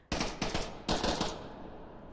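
Rapid bursts of pre-fire gunfire from players in the VR shooter Onward during a competitive match: three loud clustered volleys, the last the longest, each trailing into a lingering echo.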